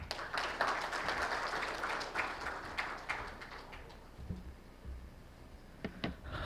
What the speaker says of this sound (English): Please welcome Mr. Sumit Saxena, SMA and Mutual Fund Head, North RO BSE, with a big round of applause